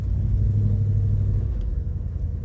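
A BMW 318-3 with a manual transmission being driven on a street, its engine a steady low rumble heard from inside the car that eases slightly toward the end, with no talking.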